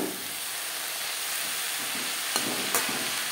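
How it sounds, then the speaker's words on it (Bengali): Eggplant and chopped mustard greens fry in a pan over high to medium flame, a steady close sizzle with a couple of sharp scrapes from the stirring spoon; no one speaks. "বেগুনের সাথে শাক বেশ ভালো করে মিক্স করে দেব"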